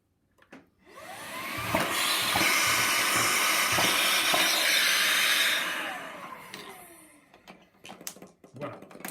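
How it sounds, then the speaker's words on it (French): A Speedy Lux stick vacuum cleaner runs loud and steady with a broad hiss for several seconds, with a few rattling clicks as it sucks up four steel balls, then winds down, followed by faint knocks. "c'est juste pour vous montrer les capacités d'aspiration au niveau de cet appareil"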